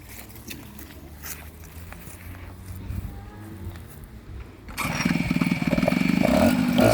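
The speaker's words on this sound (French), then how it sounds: "Et ça démarre au quart." A Peugeot 103 RCX moped, revived after about twenty years in storage, starts up after some quieter handling noises, then runs with a steadily louder buzzing engine drone close by.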